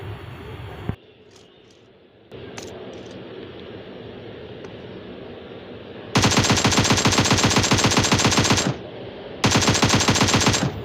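Rapid bursts of automatic gunfire, loud and sustained in two long volleys, after quieter ambient game sounds with a few isolated clicks.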